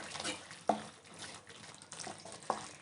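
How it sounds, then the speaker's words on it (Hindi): Milk is poured into thick khoa cooking in a pan, a soft close liquid splashing and gurgling with a few sharp clinks against the pan. "अब हम इसमें थोड़ा दूध और डालेंगे और फिर से पकाएंगे"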